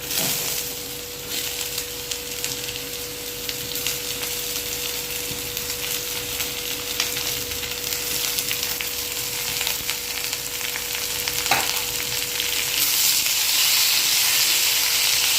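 Onions frying in a pan after garlic for a prawn gravy, a long steady sizzle that swells louder toward the end, with occasional stirring scrapes and a faint constant hum.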